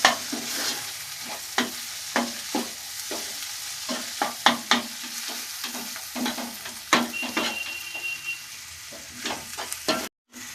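Egg and spice masala are stirred and fried in a pan on medium flame, a soft sizzle beneath repeated scraping spatula strokes in an irregular rhythm, close and clear without talk.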